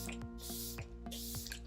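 A fine flower facial mist sprays in two short bursts of soft, airy hiss over a steady background hum, close and fairly quiet, with no talking.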